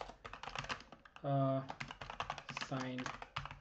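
Rapid clicking keystrokes on a computer keyboard, close and crisp, with short bursts of a voice breaking in twice between the typing.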